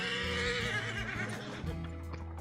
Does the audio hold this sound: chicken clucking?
no